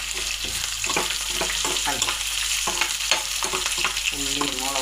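Onions, green chilies and curry leaves fry in hot oil for a jackfruit thoran, a dense continuous sizzle with quick spatula scrapes and taps crowding over it, close and loud throughout.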